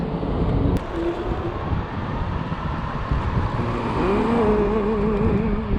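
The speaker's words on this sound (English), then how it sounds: "A lot of traffic right now. Rush hour." Friday-night rush-hour street traffic, a steady wash of passing cars with rising and falling engine hum, wind buffeting the microphone and no talk.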